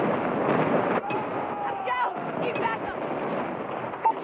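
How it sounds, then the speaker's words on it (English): An airstrike in Call of Duty Mobile rumbles as dense, continuous blasts, with a whistling jet-like tone sweeping through the middle and a short sharp crack near the end, loud and close. "Friendly airstrike incoming."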